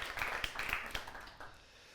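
An audience applauds at a talk show on the brain: scattered, uneven claps that come in short bursts and then thin out, fairly quiet and a little distant.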